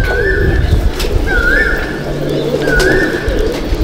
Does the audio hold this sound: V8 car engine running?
no